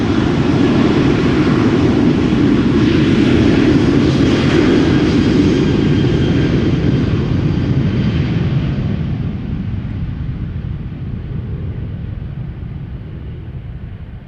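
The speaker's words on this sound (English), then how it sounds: "737 from TUI, outbound to Groningen" TUI Boeing 737 jet taking off at Schiphol, a loud continuous engine roar that holds steady and then gradually recedes into the distance, no talk.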